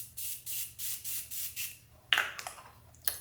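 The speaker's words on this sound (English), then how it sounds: "I'm gonna spray my face" A Morphe Prep and Set face mist sprayed onto the face: about six quick, close, hissing spritzes in an even rhythm, followed by a few faint clicks.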